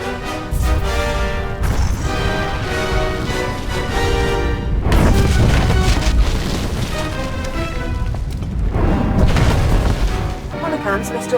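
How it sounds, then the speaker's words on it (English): A bomb goes off in Star Wars: The Old Republic, a deep, loud boom with crashing blasts rolling through a dense, continuous wall of game score and voices. "Set off the bomb"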